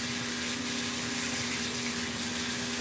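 Tap water runs steadily and loudly into a bath while a Ragdoll cat is rinsed after grooming, a constant close rush with a faint pump-like hum underneath.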